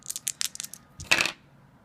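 Plastic dice clatter in a quick burst of small rattling hits, then land with a short, louder tumble during an X-Wing miniatures tabletop game, heard up close with no talk.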